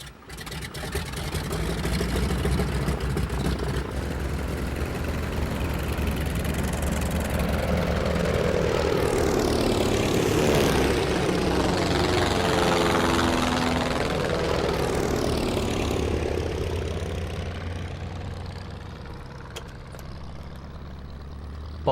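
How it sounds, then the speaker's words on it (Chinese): A Martin bomber, a propeller aircraft, takes off with a loud, steady engine drone that builds, sweeps past with a shifting pitch, and slowly fades away. "报告秘书长，马丁机组已经起飞。"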